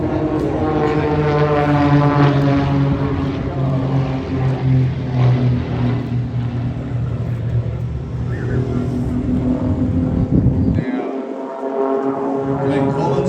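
Propeller aerobatic aircraft loop overhead at the Shellharbour airshow, a loud droning engine with a strong harmonic buzz that swells and shifts pitch as they pass, then cuts sharply to quieter air near the end.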